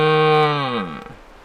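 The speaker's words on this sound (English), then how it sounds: "I would imagine this is his roaring device." A hunter's red stag roaring call device gives one loud, sustained, deep groaning bellow that holds steady, then drops in pitch and fades out over about a second, heard alone and close up in a rugged outdoor setting.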